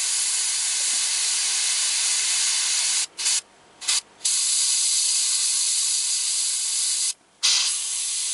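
An airbrush sprays paint around rivet detail as a steady close hiss, cut off by several brief pauses where the trigger releases, then resuming.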